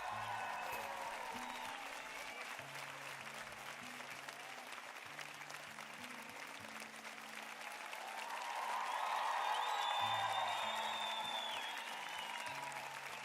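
Sustained applause from a crowd at a live D&D homebrew review stream, steady dense clapping for over ten seconds that swells louder toward the end, with faint background tones and no talking.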